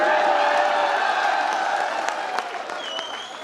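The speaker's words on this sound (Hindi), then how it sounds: "ताली वाली बजाते रहिए, बस केवल ताली" Audience clapping at a Hindi kavi sammelan poetry gathering, a dense burst of applause with a few cheers that gradually tapers off over a few seconds.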